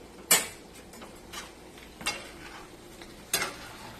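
A spoon stirs salted home-cooked food in a pan, making a few separate clinking scrapes spaced a second or so apart over a quiet kitchen background.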